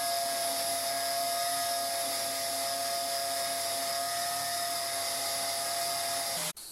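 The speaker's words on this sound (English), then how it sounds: "it all started with cleaning the material with a grinder" An angle grinder cleaning a piece of metal stock before cutting, giving a loud, steady high-pitched whine with a constant tone that holds unbroken for several seconds and then cuts off abruptly at the end.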